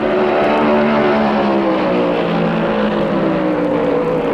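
Several 1972 NASCAR Chevrolet stock cars roar around the first turn at Darlington Raceway in a loud, continuous engine drone whose pitch slowly sweeps downward as they pass.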